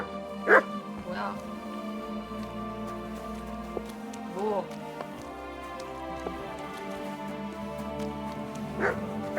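A dog barks twice near the start of a Kingdom Come Deliverance II game scene, yips again midway and once more near the end, over steady rain-like ambience while a voice speaks briefly.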